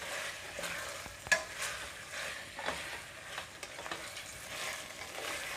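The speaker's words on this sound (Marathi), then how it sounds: "साधारण 5 मिनटं मी मटण चांगलं परतून घेणार आहे" Mutton sautés in hot oil in a pan with a continuous soft sizzle, and a spoon scrapes and stirs it in irregular strokes. No one speaks.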